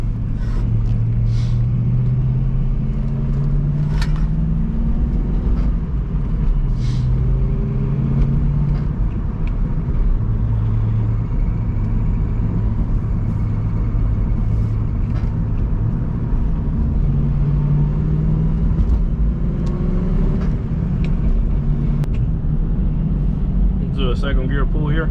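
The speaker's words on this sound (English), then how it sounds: "Do a second gear pull here." A 1998 Ford Mustang GT V8 heard from inside the car, a loud steady engine drone with rising tones as it pulls through second gear, continuous throughout.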